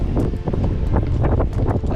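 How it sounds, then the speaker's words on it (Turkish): Strong winter wind at an abandoned hotel in Kaş, Antalya, buffeting the microphone, a loud, continuous low rumble with gusty bursts throughout. "Bugün hava felaket rüzgarlı."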